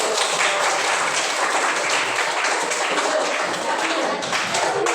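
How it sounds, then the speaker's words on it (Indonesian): Classroom applause from students, a dense, sustained burst of clapping that stays loud throughout before easing slightly near the end. "Tepuk tangan dulu."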